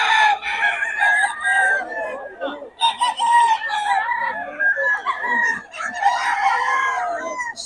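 A stag, a young rooster for sale at the Bocaue market, crows repeatedly and loudly close by, its calls mixed with clucking from other fowl throughout.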